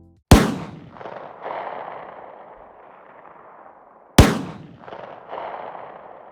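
Two loud gunshots ring out about four seconds apart, each a sharp crack followed by a long, rumbling echo and reflected tail that slowly fades, shaped by the surrounding environment.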